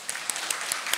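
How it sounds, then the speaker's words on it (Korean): Church congregation applauding during a Sunday service at Gangbuk Central Church, a short, steady wash of many hands clapping at moderate distance, with a few sharper claps standing out. "일단 박수부터 할까요?"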